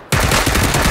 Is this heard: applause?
no